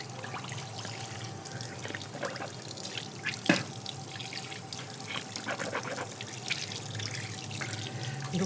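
A kitchen tap runs steadily into a sink while someone washes their face, a constant close rush of water with occasional splashes and drips.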